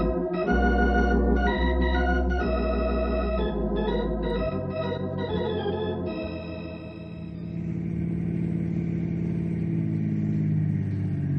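A car engine drives steadily in a radio drama scene, a low humming drone that shifts pitch slightly and gradually fades into a softer rumble toward the end, with no voices.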